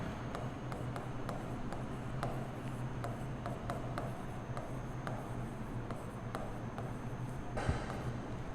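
Chalk or marker taps and scratches against a board as an accounting equation is written out. The strokes come as a quiet, irregular run of short ticks over a low room hum, with a slightly louder knock near the end and no voices.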